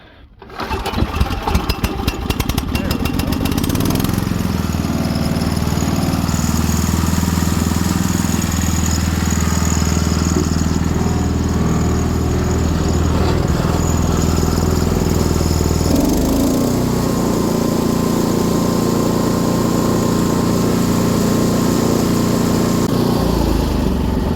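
A GT18 garden tractor engine starts and then runs steadily, a loud, close mechanical drone with a small shift in tone partway through and no talking.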